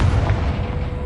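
An Incendio fire spell blast in Hogwarts Legacy, one deep booming burst with a rumbling low tail, loud and close, no talking.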